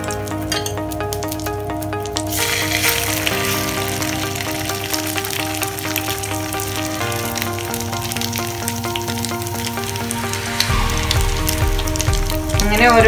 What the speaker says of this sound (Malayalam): നന്നായിട്ട് ഡിപ്പ് ചെയ്ത ശേഷം ചൂടായിട്ടുള്ള ഓയില് ഫ്രൈ ചെയ്തെടുക്കാം